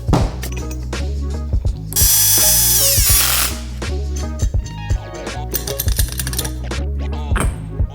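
A hand ratchet clicks in rapid bursts, bolting a power steering pump adapter block onto a boosted 07K engine swap. Close metallic clatter is broken by brief pauses and a high whirring spin.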